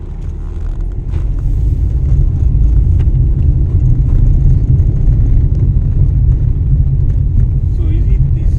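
A car on a test drive after exhaust and suspension checks at a workshop, with low steady engine and road rumble heard from inside the cabin, loud and continuous, and people talking over it at times.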